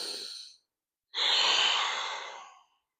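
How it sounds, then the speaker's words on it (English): A long, full breath taken during a stretching session: a short exhale trails off, then after a pause a deep, airy inhale swells loudly and slowly fades, close to the mic with no talking. "One more full breath."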